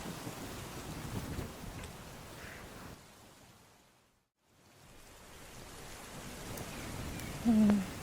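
Steady rain with a low rumble of thunder, a broad hiss that fades briefly to near silence midway before building back up.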